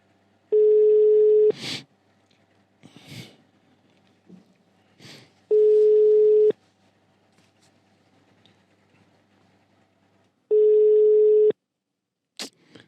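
Outgoing phone call ringback tone: three steady, loud electronic rings spaced several seconds apart, with faint clicks and rustles between them and no voices.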